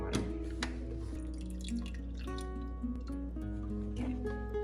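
Spring water trickles from a container into a sourdough starter jar, a close, quiet pour with small splashes and drips over a few seconds, no talking.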